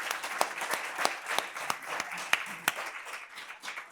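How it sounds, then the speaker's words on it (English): Audience applause at the close of an annual lecture on early childhood education, a steady patter of many hands clapping at moderate distance, with a few sharper individual claps standing out. "so we applaud you"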